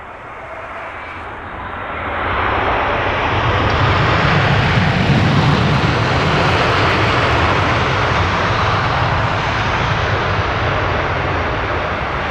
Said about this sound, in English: Virgin Dreamliner, giving it plenty of welly on the reversers